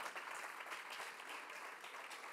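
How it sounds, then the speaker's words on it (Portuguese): A church congregation applauds Jesus in a dense, steady wash of clapping, fairly distant and even throughout, with no voices above it. "Bora aplaudir Jesus, eu creio nisso."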